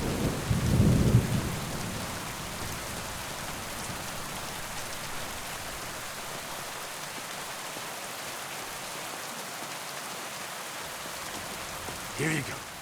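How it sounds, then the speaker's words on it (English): Steady rain pours through a medieval game world in Kingdom Come Deliverance II, opening with a low thunder rumble and settling into a constant hiss of downpour, with a faint clap near the end. "Because it's raining."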